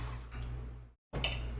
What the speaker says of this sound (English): I'm just going to pour the rest in.